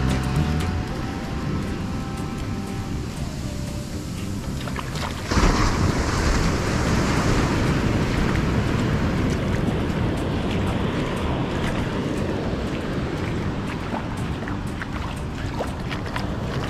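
Continuous rushing roar of sea waves and surf, heavy wind buffeting the microphone throughout, with a slight surge in the middle.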